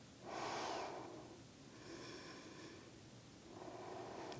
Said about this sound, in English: Lots of breathing here.